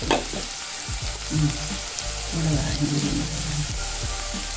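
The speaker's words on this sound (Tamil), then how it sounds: "கொஞ்சம் வதங்கினாதே நல்லா டேஸ்ட்டாக இருக்கும் இன்னும் கொஞ்சம் வதங்கட்டும்" Onion and tomato frying in oil for a Tamil-style egg gravy, a continuous close sizzle with occasional spoon stirring and scraping against the pan, alone without speech.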